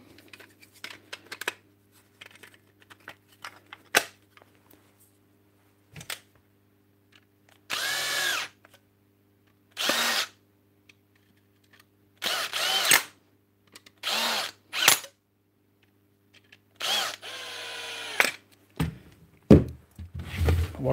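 A faulty cordless drill whirs in several short bursts, cutting in and out repeatedly, with quiet pauses and faint clicks between runs.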